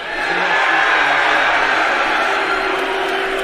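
Crowd at the UFC 285 press conference in Las Vegas cheering and roaring steadily for several seconds, a loud, sustained wash of many voices filling the room.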